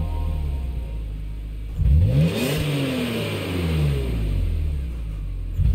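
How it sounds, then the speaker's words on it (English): A BMW engine in the Gran Turismo 7 racing game revs up with a rising, swooping roar, then settles back to a steady idle drone before a second rev begins, loud and close without any talking. "That actually sounded like a BMW."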